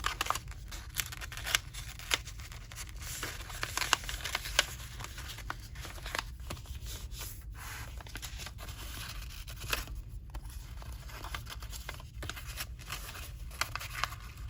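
Book pages being folded into creases while upcycling an old book into a craft, producing soft repeated papery rustles, scrapes and crinkles close up, steady throughout with no talking.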